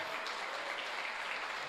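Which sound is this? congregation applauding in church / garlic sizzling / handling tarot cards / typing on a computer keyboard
congregation applauding in church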